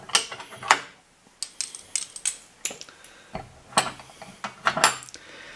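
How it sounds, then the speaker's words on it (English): A 10mm ratchet working on the battery connectors of a Ducati Xdiavel, with close, sharp bursts of metallic clicking in short irregular runs separated by brief pauses. "This is a 10mm to undo the connectors."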